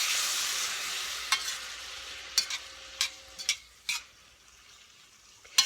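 Green peppers sizzle steadily in melted butter in a pan for a Dollar Tree shrimp and grits dish, a broad hiss that fades slightly, broken by several sharp clacks of a utensil stirring against the pan.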